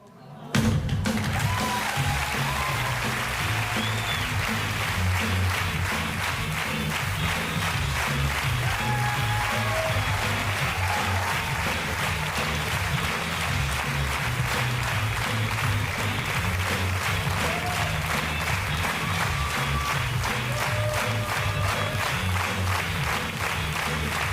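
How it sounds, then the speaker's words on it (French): A theatre audience applauds at the end of a comedy show, a steady, dense roar of clapping that runs unbroken for the full length with a faint crowd murmur underneath. "Les mecs qui applaudissent, c'est des mecs qui ont morflé"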